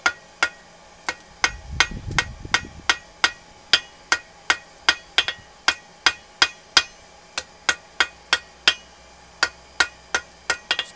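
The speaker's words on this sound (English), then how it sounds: "Just planishing it up." A hammer strikes forged steel on an anvil in light, evenly spaced taps while a seahorse shape is being planished, producing bright metallic rings about twice a second, with a brief low rumble early on.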